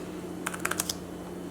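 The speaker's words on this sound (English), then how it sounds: "Typing with this keyboard was very satisfying" Quick keystrokes on a Microsoft Surface type cover keyboard, about eight close, light clicks in a brief burst followed by a pause and one more tap, over a faint steady hum.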